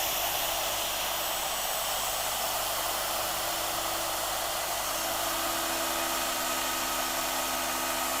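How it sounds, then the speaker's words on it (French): A shop vacuum dust extractor runs beside a Shaper Origin router, giving a constant loud whooshing roar, and a higher steady tone joins partway through. "je vais démarrer mon aspirateur"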